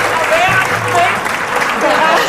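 Studio audience on a TV talk show applauding guests with a brief, dense burst of clapping, with voices and a little music faintly underneath.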